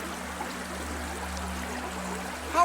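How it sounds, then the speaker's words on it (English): A bubbling river flows steadily across the whole stretch, a constant watery rush over a faint low hum, with a brief brighter splash near the end. "they come across a bubbling river blocking their path"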